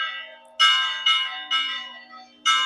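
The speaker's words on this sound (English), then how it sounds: "Hearing the church bells from the church in the centre of the village of Magan." Church bells ring from the church at the centre of a small mountain village on Gran Canaria, four clear resonant strikes in an uneven rhythm, each ringing on and fading before the next, heard alone and fairly close.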